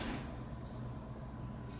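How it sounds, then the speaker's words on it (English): Fire doors in a care home building are pulled back along their track with a low, rumbling slide, quiet and indoors, ending in a faint click. "go around, pull all the doors back,"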